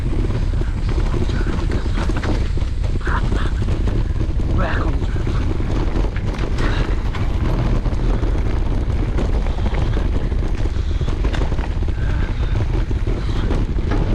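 Strong, steady wind buffets the microphone during a hardtail mountain bike ride at Janggunsan, a loud continuous low roar filling the whole stretch with no pauses.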